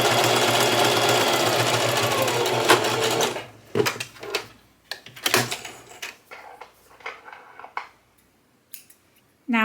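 A sewing machine stitches a T-shirt shoulder seam near the edge of a straight stitch: a continuous loud run for about three seconds, then short bursts and clicks of stitching and handling that thin out toward quiet.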